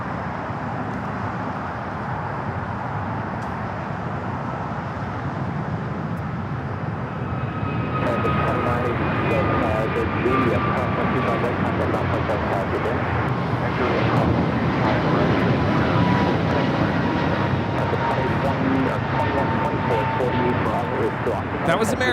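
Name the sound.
American Airlines Airbus A321neo taking off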